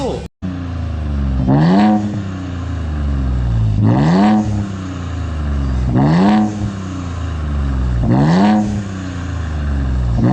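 Ford Raptor with an adjustable Euro Arts exhaust and blow-off valve, revving repeatedly in four loud rising bursts, each ending in a sharp valve release, with the engine idling between them up close.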